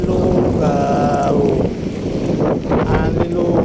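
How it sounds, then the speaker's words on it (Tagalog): Strong wind during a rainy day in Metro Manila roars and buffets the microphone in heavy gusts, with a voice briefly audible beneath the rushing noise. "Malakas ang hangin dito."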